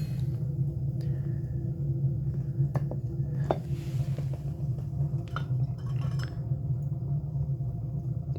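A high-temperature glass clean-out lid for a rocket heater is handled, giving a few light glassy clinks and taps over a steady low rumble of the burning scrap-wood fire.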